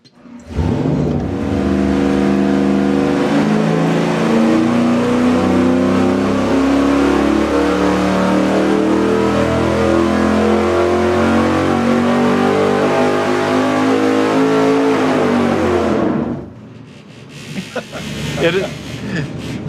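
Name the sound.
Windsor V8 engine with Edelbrock RPM manifold running on dyno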